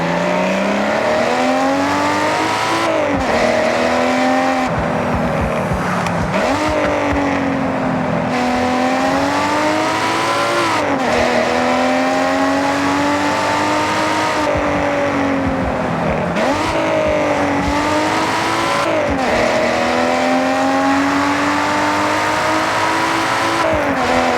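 A high-revving Ferrari V12 engine in a racing video game roars continuously, its pitch climbing and dropping sharply through repeated gear changes, loud and close, with no voices.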